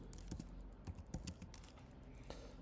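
Faint, quick keystrokes on a computer keyboard in an irregular run of taps, heard alone without any voices over them.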